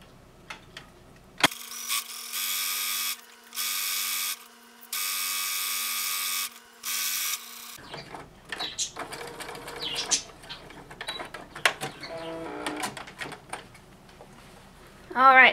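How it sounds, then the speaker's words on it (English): A sewing machine stitching a skirt waistband seam at a half-inch seam allowance, running in steady loud bursts with short pauses between them, followed by quieter clicks and handling sounds. "Just going to take this to our machine with our 1/2 inch seam allowance, and we're going to sew."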